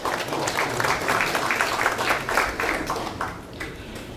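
A seated audience claps at a Saenuri Party Daejeon city chapter ceremony appointing policy advisers, a steady round of applause that tapers off toward the end.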